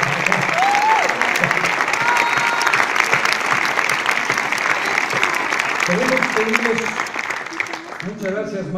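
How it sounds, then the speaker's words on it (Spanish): Theater audience applause at a Mexican stage musical, a full, sustained roar of clapping, with voices speaking over it near the end as the clapping starts to fade. "Vamos a darle un fuerte aplauso al señor Mario Gil."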